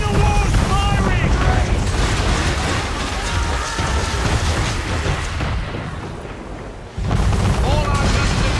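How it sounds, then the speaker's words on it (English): Heavy cannon fire from a man-of-war warship in the Assassin's Creed 3 video game, a dense, loud barrage of booms in a naval battle, shouted voices mixed into the din and a brief lull before it surges again. "Man of war's firing!"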